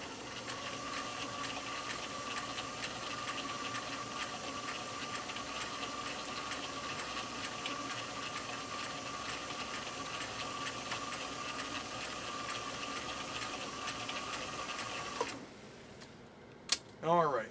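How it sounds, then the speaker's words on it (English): A Viking Husqvarna Class 8E rotary sewing machine (1.0 amp) stitching a satin stitch, humming and whirring at a steady fast pace close by, then stopping near the end with a couple of clicks. "I'll do a satin layer stitch down the middle of this"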